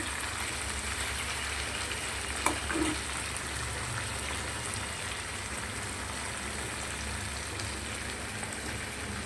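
Loitta (lote) fish fry in a pan with a spice paste, producing a steady, dense hiss of oil, close and constant throughout. A single sharp tap comes near the start.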